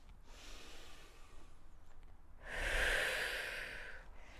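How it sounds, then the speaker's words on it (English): A deep, forceful exhalation through the nose or mouth during a Pilates exercise, a loud breathy rush that swells and then tapers off over about two seconds after quieter background breathing. "breathing out"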